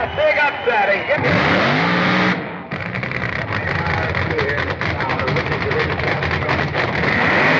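Powerful drag racing cars rev with rising whines, then break into a loud, sustained roaring acceleration close by during an elimination round.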